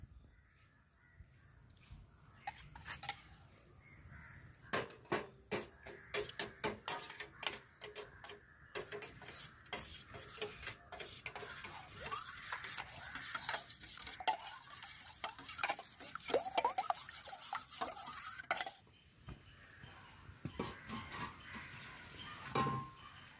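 Eight eggs with salt being beaten in a bowl, giving rapid, uneven tapping and clinking of a utensil against the bowl that runs steadily for about twenty seconds, close and fairly loud, with no talk.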